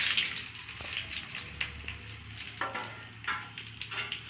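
Mustard seeds, dried round red chillies, curry leaves and asafoetida sizzling and crackling in hot oil as a tempering for sambar rice, a steady close spitting hiss with scattered pops, no talk.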